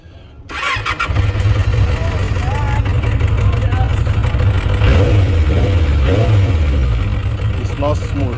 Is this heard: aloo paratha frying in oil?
no